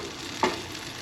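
Eggs with plenty of cheese and butter cook in a pan, a soft, even sizzle with one brief scrape of stirring, close and quiet.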